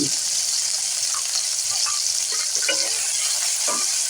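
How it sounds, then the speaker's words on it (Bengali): Chopped tomato frying in hot oil in a home kitchen, a steady, close, bright sizzle throughout with occasional soft stirring clinks and a voice speaking faintly underneath. "তেল হয়ে গেছে দিয়ে দেব টমেটো কুচনো এটাকে ভালো করে ভেজে নেব"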